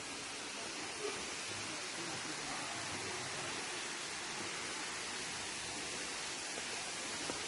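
Kurşunlu waterfall near Antalya in autumn pours in a steady, dense broadband rush of falling water, constant and fairly close, with no voices over it.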